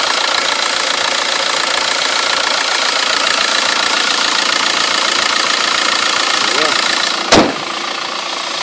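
A 2005 VW Passat TDI wagon's diesel engine idling, heard loud and close from the open engine bay. The clattery rumble stays constant, with a single brief knock near the end.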